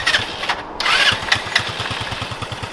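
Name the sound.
Yerf Dog Spiderbox go kart engine starting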